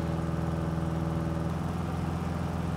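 A light aircraft piston engine running at full throttle and full rich mixture around 2400 RPM in a climb, a loud, continuous droning roar with a steady pulsing hum and no talk.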